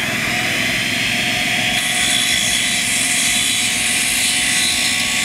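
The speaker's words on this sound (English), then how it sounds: "we'll get the saw going" Power saw running alongside an air compressor, both powered from an electric truck's outlet, making a steady loud mechanical roar and whine throughout with no talk.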